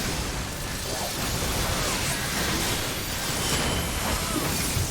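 A broad, sustained explosion rumble in a Final Fantasy XIV battle, loud and continuous across the whole stretch with swelling noise and crackle and no clear voices over it.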